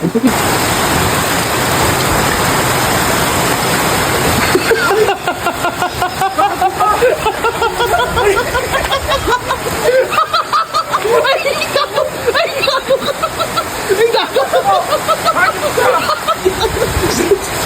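Heavy rain pours down in a steady, loud hiss that fills the whole stretch, with several people talking and laughing over it.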